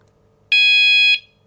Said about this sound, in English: makes a 1 long beep